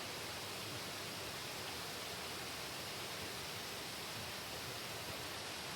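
A waterfall near a ryokan at an onsen in Oita gives a steady, even rush of falling water with no pauses, soft and constant.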